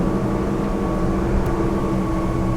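A Schaefer 375 motorboat's engine runs at high revs as the boat accelerates on open water, a steady, loud, continuous drone with a constant low hum throughout and no voices.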